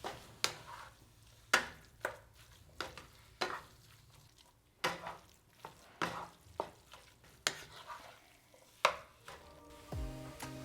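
Plant-based vegan Caribbean saltfish is mixed in a bowl, with a steady run of soft, close scraping and tapping strokes repeating roughly every half second, fairly quiet, ending with a brief clatter.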